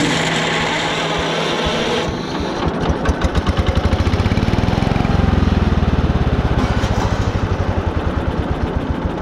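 Cheap garden tractor engine cranked over and catching, settling into a loud, close, steady chugging run with rapid regular firing pulses and no talk.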